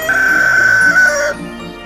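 A chicken or rooster call, loud and close, a single sustained crowing-like cry lasting just over a second before cutting off.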